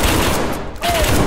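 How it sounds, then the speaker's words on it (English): Zug blaster weapon firing in SCP5K, a loud rapid burst of shots packed tightly together, briefly thinning mid-burst before the fire resumes. "I hit him with the zug blaster"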